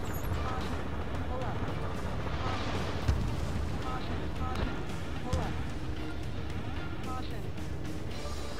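Explosive combat noise from Ace Combat 7 as an armored personnel carrier is destroyed, a dense continuous rumble of blasts and engine roar with a couple of sharper bangs, under radio-style voices.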